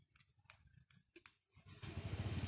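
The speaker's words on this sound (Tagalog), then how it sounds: "so nag-start yung motor" A few short clicks and taps, then a Honda Click 125i scooter's keyless-start engine starts and settles into a steady low idle.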